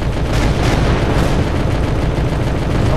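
Tank cannon fire in a tank battle video game, a dense, continuous roar of booming blasts and heavy gunfire that stays loud through the whole stretch with no talking over it.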